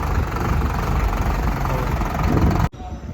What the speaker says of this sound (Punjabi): ਆ ਪਿੰਡ ਚੱਲਿਆ ਟਰੈਕਟਰ